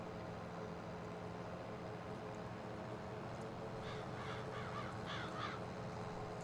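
Crows caw a few times in Farming Simulator 22, short calls spaced out over a steady low rumble of farm machinery or ambient game noise.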